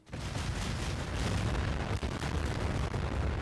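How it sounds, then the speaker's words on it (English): A car-packed factory explodes in a video game: a dense, continuous roaring blast rumbles steadily for several seconds, loud and unbroken, with no voices over it. "One gigantic explosion later, and I got a notification telling me every raider in the factory was now dead."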